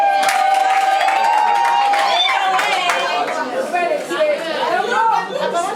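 Wedding guests at a town hall ceremony cheer and call out loudly, a dense chatter of voices with scattered clapping and whoops rising and falling over several seconds.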